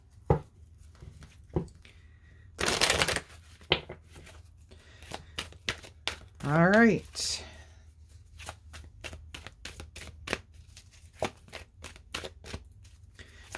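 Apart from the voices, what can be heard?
shuffling tarot cards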